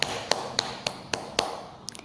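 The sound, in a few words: strong beat tapped with five fingers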